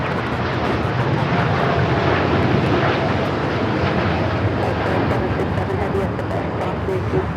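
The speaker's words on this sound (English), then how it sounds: "Air Tahiti Niue Flight 8 taking off to Paris on the 787-9 Dreamliner" An Air Tahiti Nui Boeing 787-9 Dreamliner takes off from Los Angeles bound for Paris, a loud, steady jet roar filling the scene, with a voice speaking over it.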